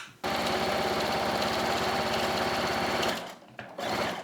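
A sewing machine runs a continuous, steady stitch through fabric on a tea towel holder with a fabric border, loud and close for about three seconds, then stops and briefly starts again with short bursts.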